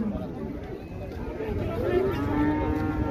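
Cattle mooing at a livestock market in Buíque, Pernambuco, low drawn-out bellows rising over background crowd chatter and nearby talk.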